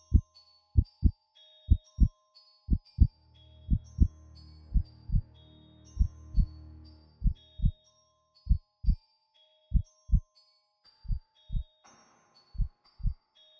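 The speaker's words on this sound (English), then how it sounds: "But for many minutes the heart beat on with a muffled sound." A muffled heartbeat sound effect plays as steady paired lub-dub thumps, deep and soft, repeating about a dozen times at an even pace. A faint low drone and light chiming tones sit beneath the thumps.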